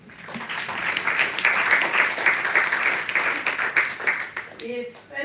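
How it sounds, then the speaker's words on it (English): Audience applause for conference panelists at an urban forum networking session, a steady broad wash of many hands clapping that fades near the end as a voice starts speaking. "Let's give them a round of applause."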